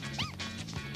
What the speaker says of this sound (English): I like how they make puppy noises.